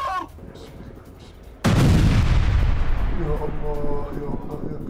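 Gunfire and a heavy blast from news footage of an attack on an IDF vehicle with a Chinese weapon; after quieter sound, a sudden loud explosion roars and slowly fades.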